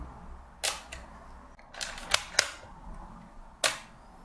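A Vilia film camera's shutter fires with flash sync at 1/30, giving several sharp mechanical clicks and snaps spread across a few seconds, close and fairly loud in a quiet room.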